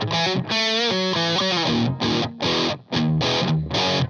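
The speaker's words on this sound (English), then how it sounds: "Let's listen to how this sounds with some distortion." Electric guitar with humbucking pickups played through distortion, a Gibson-style setup, chugging chords and sustained notes in loud bursts with short gaps, alone with no talk.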